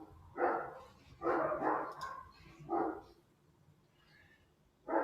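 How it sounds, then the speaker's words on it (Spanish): A dog barks outdoors in a few separate bursts, some doubled, then pauses before a final bark; moderately distant and fairly faint, with no talk over it. "Disculpen el perro que ladra, por ahí no sé si se escucha"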